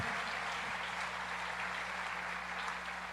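Applause for children in a church congregation at a Christian conference, a dense, steady wash of clapping that fills the whole stretch at an even level with no voices on top.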